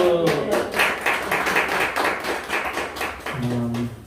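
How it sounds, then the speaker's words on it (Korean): A church congregation claps together, a brisk burst of applause that swells and then tapers, with a voice briefly heard at the edges. "박수 한번 주세요. 박수."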